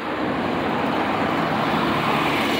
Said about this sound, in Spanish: Vienen camiones cargados.